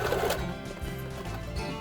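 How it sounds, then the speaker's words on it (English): A sewing machine runs steadily, its motor whirring and needle chattering without pause as it stitches a fabric mask, loud and close. "just a little back and forth reverse on the sewing machine"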